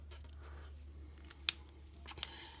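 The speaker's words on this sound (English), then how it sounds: "Now I hand cut with scissors." Scissors snip a few times, sharp and close, hand cutting paper around a foil image in an otherwise quiet room with a faint low hum.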